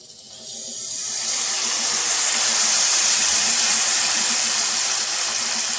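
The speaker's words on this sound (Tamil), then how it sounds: "இதில் நான் எவ்வளோ புளி தண்ணி ஊற்றுறேன்றதை பாருங்கள்" Tamarind water is poured into a cooking pot for a dried anchovy curry, a loud, steady rushing pour that swells in over the first second and then holds a broad, hissing flow to the end.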